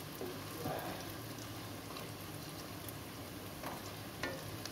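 Paneer coated in cornflour and flour deep-fries in hot oil, a steady soft sizzle and bubbling with a few crackling pops, heard close and alone.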